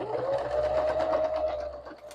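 A sewing machine runs in reverse, stitching through layered paper scraps, a steady close whir with a rapid needle rhythm for about two seconds before it slows at the end.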